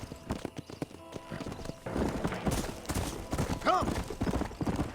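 Horse hooves clip-clop rhythmically on a trail in the video game Red Dead Redemption, a steady mid-level beat under ambient game sound, with a voice speaking and a brief whinny near the end.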